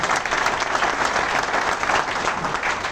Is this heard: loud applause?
yes